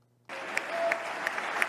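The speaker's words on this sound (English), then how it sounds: "And now, he gets applause for this." An audience bursts into applause at a political speech, a sudden dense wash of clapping that starts abruptly and holds steady, with a few louder individual claps standing out.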